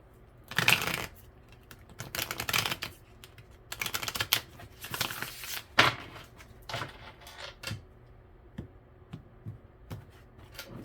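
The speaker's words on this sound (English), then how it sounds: "Last shuffle." Tarot cards shuffled by hand in a quiet room during a daily astrology reading, giving bursts of crisp riffling and soft slaps in irregular clusters, close and moderately loud, with no talking.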